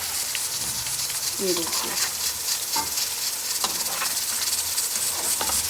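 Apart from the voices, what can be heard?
koftas frying in oil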